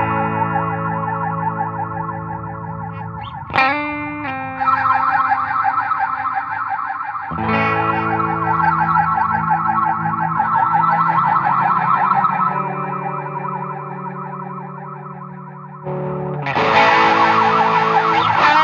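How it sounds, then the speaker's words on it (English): Instrument sustained through an IK Multimedia X-Space in extreme mode, one plate reverb feeding another heavily modulated with a phaser, giving long, swirling, siren-like tones that swell and shift in pitch across several sustained sections, loud and without voices. "imagine a plate reverb that goes into another plate reverb, which is heavily modulated with a phaser"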